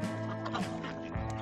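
Ducks quack in a farmyard flock during mating season, a few nasal calls close by over a steady background hum, with no talking.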